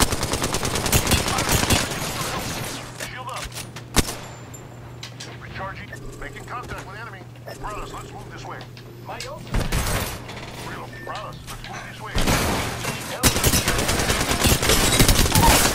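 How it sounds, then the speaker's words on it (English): Apex Legends gunfire in a ranked match: dense bursts of rapid automatic shots crackle loudly at the start and end, with scattered single shots and thuds between, while a voice speaks over the action. "The enemies are shooting at me."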